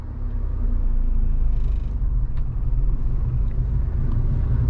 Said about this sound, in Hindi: अब एक बार थोड़ा सा रेस दे के और गाड़ी को उठा के देख लेता हूँ। दूसरे गियर में गाड़ी को मैंने लगा दिया है